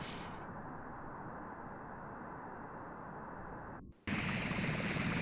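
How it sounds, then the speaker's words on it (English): Cobra helicopters in the naval combat game Sea Power, a steady dense rotor and engine drone that holds evenly, then cuts out briefly and returns louder and brighter. "We do have our Cobras getting close to enemy helicopters now."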